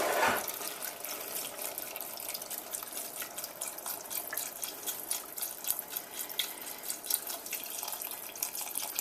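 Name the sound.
pouring broth into butternut squash soup pot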